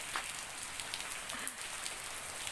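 Steady rain falling outdoors, a soft continuous patter on surfaces with a few individual drops standing out, faint and even throughout.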